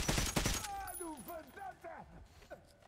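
Gunfire in Metro Last Light Redux: a burst of loud shots at the start gives way to ringing, echoing impacts and debris, with a person's voice talking over it.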